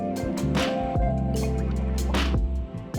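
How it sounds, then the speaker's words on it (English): Binakol broth poured table side into a bowl of coconut meat, flowers and herbs, a close liquid pour with splashing and dripping, free of talk. "we pour the broth table side"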